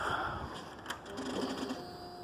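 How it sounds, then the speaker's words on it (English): The starter on a 2004 Suzuki GSXR 1000 motorcycle cranks in a brief, close mechanical whirring with a rapid rhythmic churn, lasting about two seconds. "Clutch switch is bypassed and it is neutral, and I'm gonna crank it for you."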